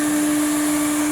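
An Electrolux Twin Turbo Z522 vacuum cleaner runs with a steady, loud motor whine and a constant even drone, close by and unchanging for the whole moment.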